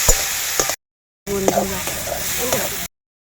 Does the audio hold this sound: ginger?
yes